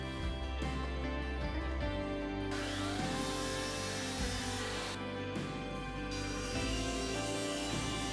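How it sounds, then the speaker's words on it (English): A miter saw cuts angles on wooden table legs, a loud sustained motor whine with bursts of harsher cutting noise. The blade bites into the wood a couple of times during the run. "I cut the angles to the tops of the legs with the miter saw, then gang cut them to length"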